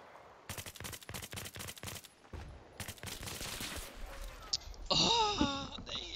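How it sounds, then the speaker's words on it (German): Bursts of machine gun fire in Battlefield 3 rattle in rapid repeated volleys, broken by short gaps, with a louder mixed clash of game sounds near the end. "Maschinengewehre"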